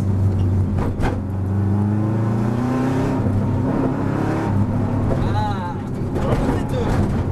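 A Subaru's engine rises in pitch as it accelerates on a race track at Dreux, a loud continuous drone with an instructor's voice talking over it.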